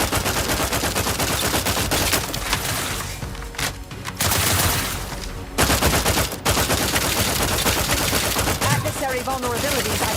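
Rapid, dense gunfire from a sci-fi shooter in The Outer Worlds 2, continuous loud bursts filling the whole stretch with brief dips, a synthetic game voice occasionally heard over the shooting.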